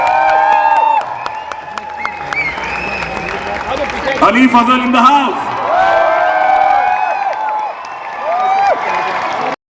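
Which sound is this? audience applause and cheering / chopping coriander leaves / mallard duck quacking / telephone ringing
audience applause and cheering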